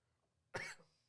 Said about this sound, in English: Nice coughs